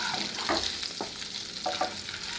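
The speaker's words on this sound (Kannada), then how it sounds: "ಈಗ ಮೊಟ್ಟೆ ಜಾಸ್ತಿ ಏನು ಫ್ರೈ ಆಗೋದು ಬೇಡ, ಒಂದು ಸ್ವಲ್ಪ ಎಣ್ಣೆಲಿ ಫ್ರೈ ಆದರೆ ಸಾಕು" Eggs frying in a little oil in a kadai, a soft close sizzle broken by a few scraping spatula strokes, fairly quiet and without voices.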